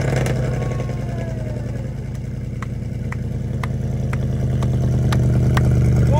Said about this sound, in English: Right, cold start time.